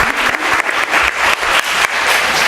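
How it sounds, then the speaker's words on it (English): Loud, dense applause from a close audience rolls on steadily without a break, with no voices over it. "That's worth a round of applause"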